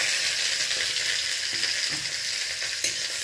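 Sour okra goes into hot oil seasoned with five-spice in a kadai, giving a steady, close sizzling hiss with faint stirring scrapes and no talk.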